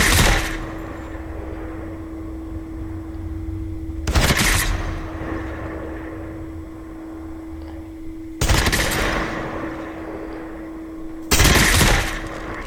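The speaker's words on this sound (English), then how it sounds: "there is a sparkle hit effect for thermite mag" Mythic Rytec firing thermite rounds in a video game, three loud bursts of gunfire spaced a few seconds apart over a steady humming background tone.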